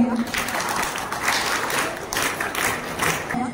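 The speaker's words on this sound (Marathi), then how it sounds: "आपण त्यांचं जोरदार टाळ्या वाजवून एकदा स्वागत करूया" Audience applause welcomes guests at the prize-giving ceremony of a 2025 fort-building competition: a few seconds of dense, lively clapping with voices mixed in.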